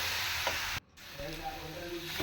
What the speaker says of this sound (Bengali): কাঁচা ময়দাটা দেওয়ার পর 2-3 মিনিট একটু কিন্তু ভাজা ভাজা করে নিতে হবে